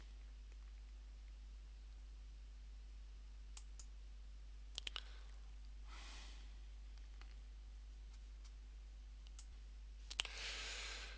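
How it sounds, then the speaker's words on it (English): A computer mouse clicks a few times, with sharp, faint single and double clicks spread over a quiet background hum, close by and with no talking. "just click on here and the map will open"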